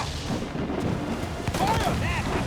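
Ship cannons fire during a naval battle in Assassin's Creed Freedom Cry, heavy booms and rumble layered with battle noise and shouting voices.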